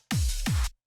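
Two short, deep sub-bass notes from a low sine-wave synth with a sliding low pitch, played alone, clean and quick in succession, for a UK hardcore bass.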